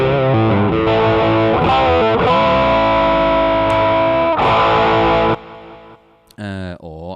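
A heavily distorted electric guitar through a MOOER GE200 on a full DS distortion setting rings out with sustained, saturated chords for about five seconds, then cuts off, followed by a brief warbling effected tone.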